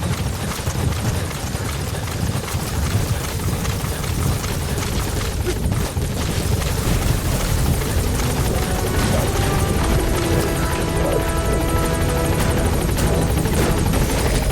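Support helicopter arriving in the video game Metal Gear Solid V: The Phantom Pain, a loud, steady rotor roar and engine drone filling the whole clip without letup.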